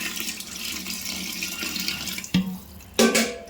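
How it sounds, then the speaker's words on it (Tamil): Water poured into a cooking pan of sautéed mixture, a steady splashing pour with a couple of sharper spills near the end. "நம்ம இப்போ தேவையான தண்ணி ஊற்றிக்கணும்."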